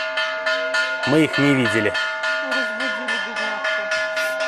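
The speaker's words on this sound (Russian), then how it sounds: "И кто-то из монахов сейчас барабанит в колокол." A bell at a Buddhist temple in Hua Hin, Thailand, struck repeatedly by a monk, giving a fast run of ringing metallic clangs with sustained humming overtones, close and loud, while a person speaks briefly over it.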